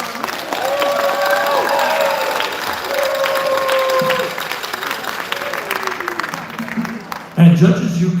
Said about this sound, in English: how about a great big round of applause for all of our